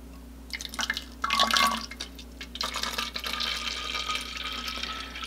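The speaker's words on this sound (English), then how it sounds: "I'm gonna go ahead and pour the water back into the bottle." Water poured from a graduated cylinder back into a bottle, short splashy gurgles in bursts followed by a steadier trickle, close and moderately loud.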